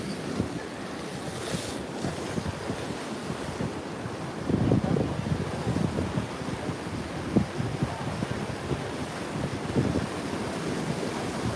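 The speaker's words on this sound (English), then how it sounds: "This is the city of Las Palmas, where the wave activity was pretty extreme." Heavy ocean surf at Las Palmas in the Grand Canary Islands, a continuous roar of breaking waves close by, mixed with gusty wind buffeting the microphone, with no talk.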